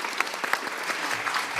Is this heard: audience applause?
yes